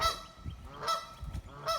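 Several loud goose honks in quick bursts, harsh and nasal, repeating irregularly with short gaps between calls.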